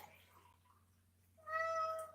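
A house cat gives a single clear, drawn-out meow up close after a quiet stretch of faint room noise, with no one talking.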